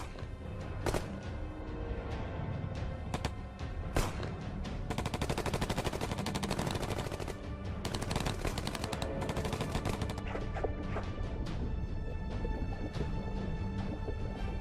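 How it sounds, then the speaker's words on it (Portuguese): Heavy gunfire in a World War II South Pacific submarine documentary, with rapid machine-gun bursts and scattered single shots continuing loudly for the whole stretch, no talking over it. "Continuem atirando!"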